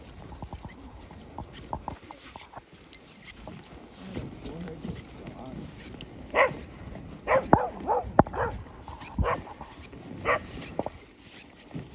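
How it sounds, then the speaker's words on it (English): Dogs playing at an off-leash dog park, a beagle hound among them giving scattered baying barks at a middle distance amid general outdoor noise and people chatting. "Looks like you got a hound dog in your midst."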